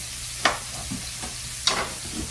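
Green peppers dropped into a hot pan over a steady sizzle, with two sharp spattering bursts and a few light scrapes.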